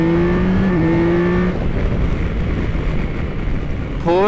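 A 2025 Yamaha Tracer 9 GT motorcycle ridden on the highway, its engine droning steadily with a rising and falling pitch through gear changes and a fresh rev at the end, heavy wind rush throughout.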